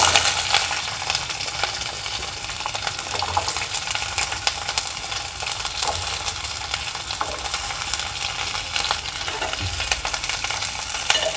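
Onions sautéing in hot oil with dried red chillies for a small bitter gourd poriyal, a steady close sizzle with occasional stirring scrapes and clinks running throughout.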